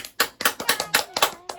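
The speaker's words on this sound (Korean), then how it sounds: "여기까지 하신 여러분을 응원하고 축복하고 박수로 마치겠습니다." A person claps to close a Bible hanja lesson, about eight crisp, close hand claps in a quick, slightly uneven rhythm, with nothing else around them.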